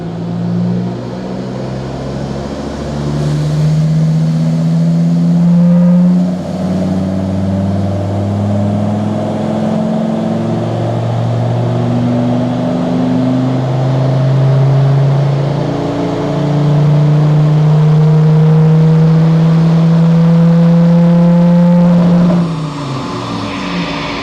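Modified Land Rover Discovery Td5 diesel fitted with a GTB550 turbo accelerating at full throttle in fourth gear, a loud close engine drone climbing steadily in pitch through the gear with turbo whine, then easing off near the end.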